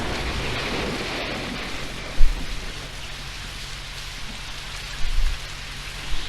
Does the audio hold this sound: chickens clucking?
no